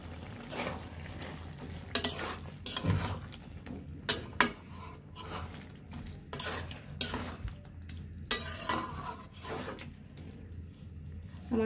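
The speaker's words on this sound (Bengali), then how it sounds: "এখন আমরা ভেজে রাখা চিংড়ি মাছগুলো দিয়ে দেব।" Fried prawns go into a pumpkin curry and a spoon scrapes and stirs them through the pan, giving irregular clattering knocks over a soft background sizzle, close and steady with no talking.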